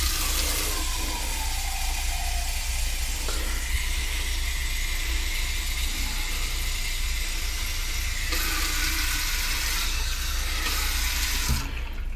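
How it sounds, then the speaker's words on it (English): Water runs steadily into a metal cup in a cheap motel room for several seconds, a continuous splashing hiss with a slight change in tone as it fills. "Put a cup of water in there."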